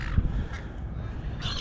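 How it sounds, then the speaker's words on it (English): Seagulls call over the water at a coastal fishing spot in Portland, Victoria, Australia, with a short harsh squawk near the start and another brief cry at the end, heard over wind and water noise. "Seagulls are having fun with my extras I chuck on the surface"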